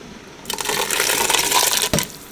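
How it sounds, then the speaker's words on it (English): Hominy pours into a cooking pot with a liquid gush, a close, steady splashing pour for about a second and a half that ends with a final plop. "We're going to pour in our hominy."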